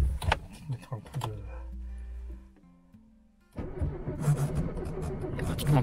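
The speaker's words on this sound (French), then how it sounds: "on va essayer de démarrer la Citroën GTI." A Citroën AX GTI with a weak battery, cranking as someone tries to start it: a low, strained starter whine lasting a couple of seconds, then louder rattling engine noise, close by and mixed with voices.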